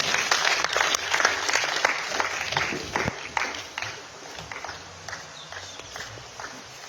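Steady applause from an audience, dense and fairly loud, fading somewhat toward the end.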